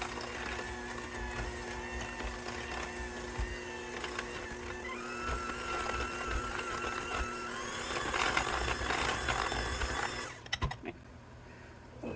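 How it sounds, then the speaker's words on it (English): Electric hand mixer whirring through a bread pudding mixture, a steady close motor whine that rises in speed before cutting off abruptly near the end. "I usually kind of start on a low just so I'm not sloshing everything, and then work up to a higher speed with my hand mixer"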